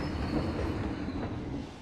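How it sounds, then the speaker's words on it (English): A roller coaster train in the game Planet Coaster brakes as it enters the station, a low rumbling rattle of wheels on track with a faint high screech, steady and fairly quiet throughout. "slam on those brakes as we enter the station"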